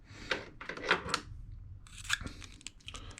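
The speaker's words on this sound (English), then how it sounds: "these are tough to get open. So I'm just going to do this. I'm just going to rip a couple, like 3 of them" 1991 Pro Set Series 1 Platinum NFL card packs being ripped open by hand: several close, crackly tearing bursts, a brief pause, then another quick rip, with no talking.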